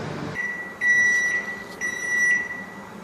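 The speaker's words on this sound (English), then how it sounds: "I hope you just heard that beep it was giving me" An electric oven's timer beeps partway through cooking tandoori chicken, two short high tones a second apart, clear over faint kitchen background.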